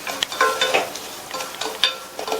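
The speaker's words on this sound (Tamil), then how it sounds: "மீதி இருக்கிற நெய்யில் 1/4 கப் ரவையை சேர்த்து லோ ஃப்ளேம்லேயே வச்சு இந்த ரவையை நல்லா வறுத்துக்கங்க." Semolina stirred and roasting in ghee over a low flame, with soft scraping strokes and a faint crackle in short irregular bursts, close and moderately loud, no voices.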